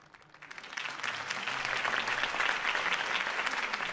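Crowd applause after a campaign speech in the Batman Telltale video game rises from a faint start into sustained, dense clapping that holds steady for several seconds.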